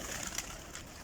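Flying pigeons kept in a rooftop loft coo in a brief, soft, husky burst, close by against a steady background hiss.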